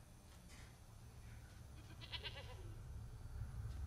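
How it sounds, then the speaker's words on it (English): A caged goat gives a faint, wavering bleat in a hospital setting, heard quietly over a low rumbling background. "Why is a goat in a cage?"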